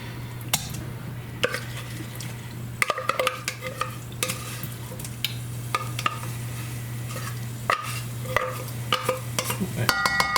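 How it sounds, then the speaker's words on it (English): Tuna and cream of mushroom soup being stirred in a pot, repeated wet scraping and clinks of a spoon against the metal over a low steady hum, gentle sizzle beneath. "we're going to dump the tuna and the cream mushroom soup in this same pot"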